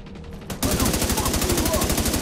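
Rapid automatic gunfire erupts in The Division 2 video game: quiet ambience, then a loud, dense burst of fast repeated shots that continues steadily to the end.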